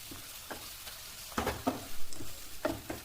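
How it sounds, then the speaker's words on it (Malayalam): Ginger garlic paste stirred with onions in a pan for a masala chicken curry: quiet scraping strokes and light sizzling, a few sharper spoon taps, close but faint. "ഇനി ഇതിലേക്ക് 2 ടീസ്പൂൺ ഇഞ്ചി വെളുത്തുള്ളി പേസ്റ്റ് ചേർത്ത് കൊടുത്ത് ഇതിൻ്റെ പച്ചമണം മാറുന്നത് വരെ നന്നായി ഇളക്കി കൊടുക്കാം."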